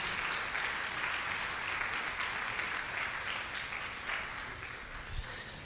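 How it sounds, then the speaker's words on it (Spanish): A church congregation applauds during a Sunday morning sermon, a steady wash of many hands clapping together, moderately distant and fairly soft, holding for several seconds before easing slightly toward the end. "Dale fuerte ese aplauso a Jesús en esta mañana."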